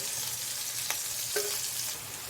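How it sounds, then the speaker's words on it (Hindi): Butter chicken pieces fry in oil in a pan over low gas, giving a soft steady sizzle with a couple of faint scrapes of stirring. "मैंने तेल में इसको फ्राई कर दिया है। कम गैस से इसको अच्छे से पकाना है।"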